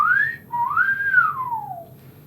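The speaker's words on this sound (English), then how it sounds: "Oh, that was a whistle." A person whistles two clear notes, a short rising tone followed by a longer one that swells and slowly glides down, close and loud in a quiet room.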